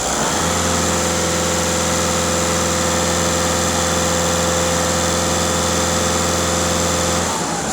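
A Seat Altea 1.6 TDI diesel engine idles steadily for several seconds, a close, even low rumble with a constant drone and vibration, no voices.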